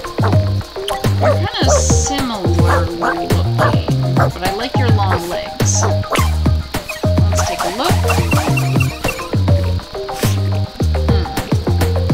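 A cartoonish dog in the video game Wobbledogs gives repeated squeaky yips and barks over a busy, bouncy game soundtrack, steady and loud throughout.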